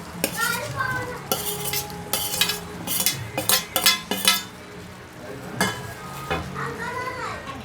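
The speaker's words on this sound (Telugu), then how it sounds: "ఇప్పుడు ఇందులోకి మనం కట్ చేసి పెట్టుకున్న ఆలు ముక్కలు వేసేసుకుందాము." Potato pieces are stirred into frying onions in a pan for aloo kurma, with repeated scraping and clinks of a spoon on the pan under a soft sizzle, while someone talks over it.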